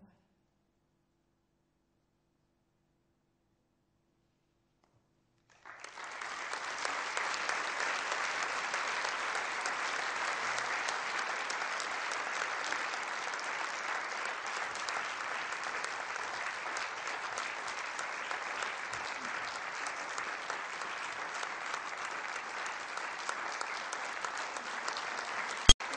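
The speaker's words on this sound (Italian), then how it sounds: "Il colore di questo applauso" After a silent pause, an audience bursts into sustained applause following a reading, a dense steady wash of clapping that holds at an even level to the end.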